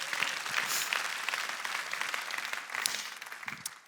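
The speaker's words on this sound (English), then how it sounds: "You can give that a round of applause, yeah." A church congregation gives a brisk round of applause, many hands clapping close and evenly for a few seconds before starting to fade.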